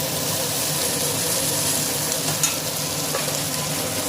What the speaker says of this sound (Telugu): పచ్చిమిరపకాయలు, కరివేపాకు వేసి కొద్దిసేపు వేయించుకోవాలన్నమాట.